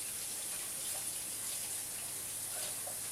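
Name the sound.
washing hands off under running water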